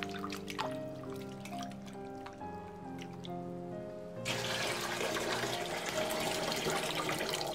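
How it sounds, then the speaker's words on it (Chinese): Tap water pouring and splashing over thinly sliced peeled potatoes in a kitchen, a steady close rush that grows louder and fuller halfway through, heard alone without talk. "然后用水冲洗一下，"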